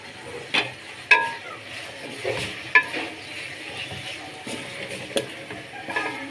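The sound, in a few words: stirring potatoes with green chillies, mint and coriander in a pan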